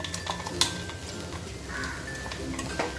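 Ground garlic spice paste stirred and sautéing in a pan for a whole masoor dal rice dish, with soft sizzling under repeated spoon scrapes and light clinks of utensil on pan, close and steady.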